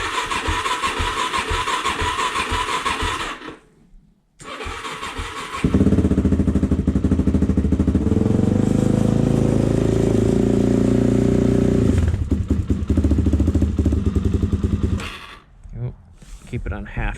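A Suzuki DRZ400S motorcycle with freshly cleaned carburetor and choke pulled cranks, then catches and starts, running loudly with a rumbling, uneven idle before it cuts out and sputters back briefly.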